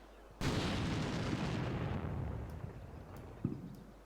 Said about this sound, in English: Can hear my heavy artillery in the background.